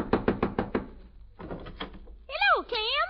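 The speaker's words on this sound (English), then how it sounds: "Now knock on your door." A sound-effect door knock for a 1942 winter radio comedy show: two quick bursts of sharp, close raps on a wooden door, followed by a comic voice with sweeping, warbling pitch.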